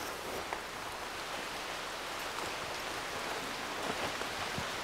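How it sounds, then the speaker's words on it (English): Rain moving in over a Puerto Rico rainforest, a steady hiss of drops pattering on leaves and the ground at a soft, even level throughout, with no voices. "Looks like the rain's coming in, too."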